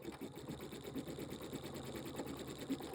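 Pfaff Creative 3.0 embroidery machine stitching a Halloween quilt design at full speed on the start-stop button, a fast steady whirring hum with rapid needle ticks, close and continuous, with no talking.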